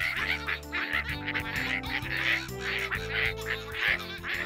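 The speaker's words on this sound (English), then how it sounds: "First the ducks quack happy birthday" Rhythmic quacking calls of cartoon ducks singing happy birthday over a bouncy musical backing, bright and close, repeating in a steady tune-like pattern.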